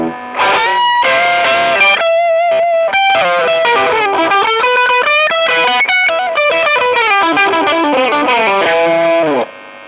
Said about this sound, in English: See, you can still hear the boost.